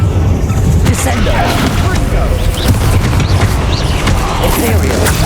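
A Descendo spell slamming down in Hogwarts Legacy, heard as loud, booming blasts and crashes in a dense, continuous stream of game effects, with voices under the action.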